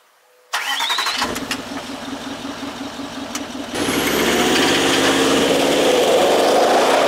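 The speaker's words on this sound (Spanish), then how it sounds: "ya estamos a los mandos de este Range Rover Sport" A Range Rover Sport TDV8 with a V8 diesel engine cranks and fires after a moment of silence, settles into a steady idle, then rises to a louder, fuller run, close and alone.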